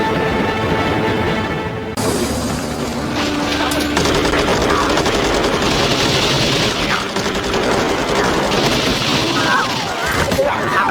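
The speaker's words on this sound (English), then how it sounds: "All like gunshots." Sustained gunfire from a sci-fi TV drama scene, loud and continuous with rapid bursts and crashing impacts across the whole stretch, dense and close throughout.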